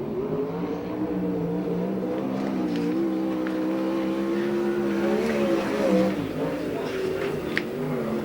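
A USAC/CRA sprint car on a timed lap at the So Cal Fair track in Perris, California: a loud, steady engine drone that rises and falls in pitch through the turns, with a commentator talking over it.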